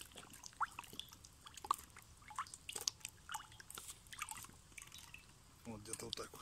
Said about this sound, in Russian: Наливаем масло.